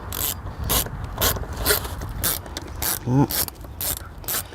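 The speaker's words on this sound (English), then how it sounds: "we're just screwing it back inside. One by one." A ratchet drives the air filter housing screws back in on a Dodge Charger with steady rapid clicking bursts, close up. Someone says a single brief word partway through.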